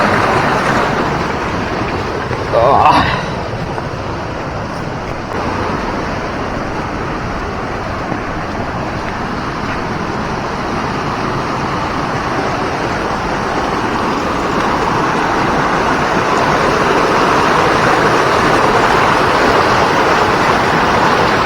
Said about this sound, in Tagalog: Ito pangalawang sapa to.